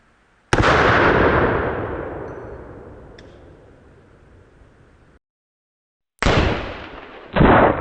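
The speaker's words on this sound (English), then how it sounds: "Using full metal jacket ball ammo for the rifle." Single loud 5.56 rifle shot firing full metal jacket ball ammunition outdoors, a sharp close crack with a long decaying boom, followed after a pause by another loud burst and a sharp clang.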